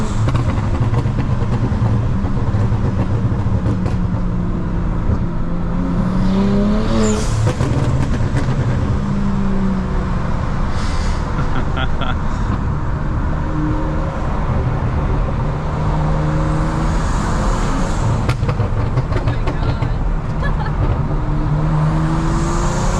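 BMW 335i with an N54 engine, straight pipe exhaust and burble tune, heard from inside while driving: a steady low exhaust drone broken by scattered sharp crackles and pops.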